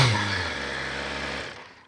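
Exhaust of a BMW S1000 RR inline-four superbike holds a close, rumbling note with a slight rise, then dies away near the end, running alone without voices.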